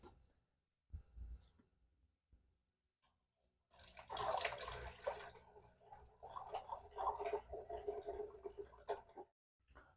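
Water pours through a filter into a Pinter brewing vessel for an all-grain chocolate stout, a close, bubbling trickle lasting several seconds after a few quiet handling knocks.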